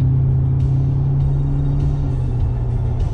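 A 2019+ Ford Ranger with an MBRP exhaust idles and runs, heard from inside the cab as a loud, steady low drone and rumble with slight rises in engine pitch.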